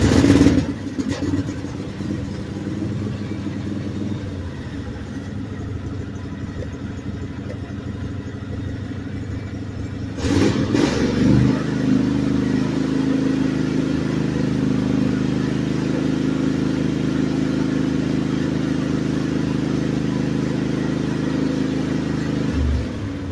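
A small engine runs on choke and is pushed to full throttle, first a steady loud drone, then a sharp surge partway through that settles into a higher, sustained roar.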